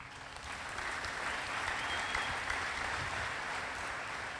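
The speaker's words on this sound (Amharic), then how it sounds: "አጨብጭቡላት" An audience at a church youth gathering claps for a young girl after her testimony, a sustained, fairly even round of applause that runs steadily throughout without speech.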